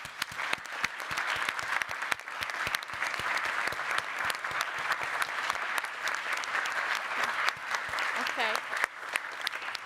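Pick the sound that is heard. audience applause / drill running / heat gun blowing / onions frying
audience applause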